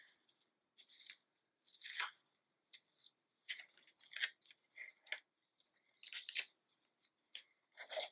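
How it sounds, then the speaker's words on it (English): Tape peeled from a drawing on paper produces a string of short, crackly ripping bursts at close range, separated by brief silences, with no talking. "I'm going to take my drawing and remove the tape."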